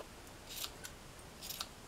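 Short scissors snip through a cotton T-shirt along the neckline seam in a few quiet, separate crisp cuts with pauses between them, close up and alone with no talk.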